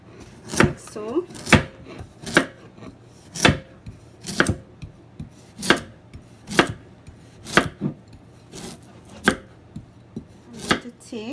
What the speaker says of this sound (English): I'm going to julienne the carrot like so.